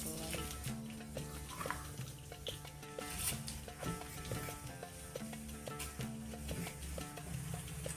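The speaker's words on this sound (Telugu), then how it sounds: "నూనె వేగాక వీటిని కూడా వేసి వేయించుకోవాలి" Crushed garlic frying in hot oil in a pan, a steady close sizzle with light stirring, while music with steady tones plays underneath.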